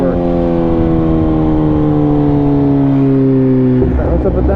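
A BMW S1000RR motorcycle's engine climbs in a long, loud, rising rev with a quick shifter, then drops sharply near the end.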